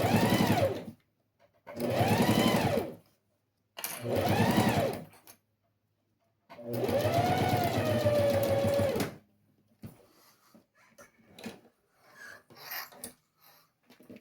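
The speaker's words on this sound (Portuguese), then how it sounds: "depois eu faço a costura de um pé de máquina" A sewing machine stitches fabric for a small fabric box in four loud, close bursts of rapid mechanical whirring separated by short pauses, followed by quieter rustling and handling of the cloth.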